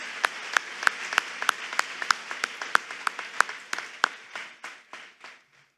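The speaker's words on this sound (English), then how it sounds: "one more round of applause for our graduates" A crowd at a graduation ceremony applauding with steady, sharp claps that gradually thin out and fade to silence near the end.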